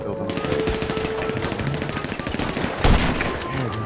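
Automatic gunfire in the video game GTA 5 rattles in fast continuous bursts, loud and dense, with a heavier blast near the end and a faint voice underneath.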